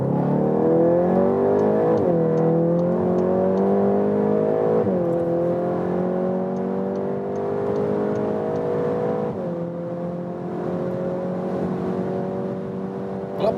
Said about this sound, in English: And now let's accelerate out